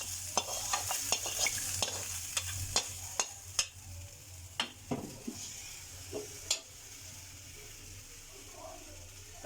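Hot tempering poured into a pot of chicken kadhi brings a soft background sizzle while a spoon stirs and knocks against the pan in sharp, irregular clinks that thin out toward the end.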